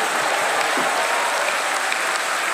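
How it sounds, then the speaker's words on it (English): A church audience applauding, dense continuous clapping filling the whole short stretch at an even level, with no voices over it. "Give the Lord a big round of applause"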